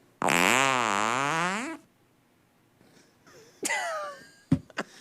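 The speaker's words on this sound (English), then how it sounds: "I'm starting to think you were the one that did all the farting." A long, loud, buzzing fart with a wavering pitch lasts over a second, followed after a pause by shorter squeaky and sputtering bursts, all close and with no talk over them.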